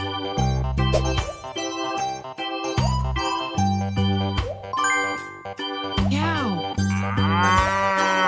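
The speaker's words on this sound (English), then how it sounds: "Cow." Cattle mooing in a children's animal-name and animal-sound learning game: a run of loud, close, drawn-out lowing calls in quick succession, with a faint jingling tinkle above them and no voices.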